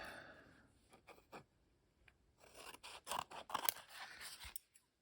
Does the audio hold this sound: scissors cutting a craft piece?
yes